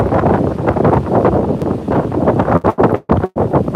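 Strong storm wind blows at a beach beside a rough ocean, a loud, roaring buffet on the microphone that surges in gusts and briefly cuts out near the end.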